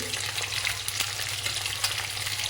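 Onions fry in a hot pan for a Punjabi spiced yogurt-gram-flour dish, a dense, steady sizzle with soft scraping from stirring, close and continuous with no talking.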